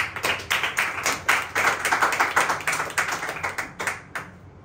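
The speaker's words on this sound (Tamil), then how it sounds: "கைத்தட்டி ஆண்டவர் மகிழ்ப்பட." Church congregation clapping hands in a steady series of sharp, fairly close claps lasting several seconds, then stopping abruptly near the end, with no voices over it.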